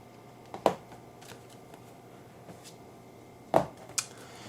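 Unicorn oracle cards are handled and shuffled in a quiet room: a few short papery riffles and soft flicks, spaced apart, fairly close and low in volume.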